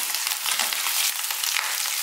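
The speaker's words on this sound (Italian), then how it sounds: "e le mettiamo a friggere" Potato, Brussels sprout and onion fritters frying in a pan give a steady, close, crackling sizzle that runs unbroken throughout, with no voices.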